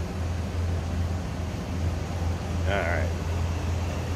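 A 1987 Chevrolet K10 Custom Deluxe pickup's engine idles smoothly as a steady low hum, while someone briefly speaks over it near the end.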